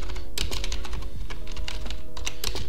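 Rapid typing on a computer keyboard while writing Lua code in Roblox Studio, with dense clustered clicks and a few heavier strokes such as the Enter key, close and steady with no talking.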